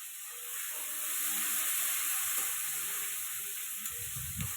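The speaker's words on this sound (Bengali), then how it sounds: "ভালো করে পেঁয়াজটা ভেজে নেব।" Chopped onions frying in hot oil for a Bengali rohu fish curry, giving a steady close sizzle and hiss that holds throughout with no talk.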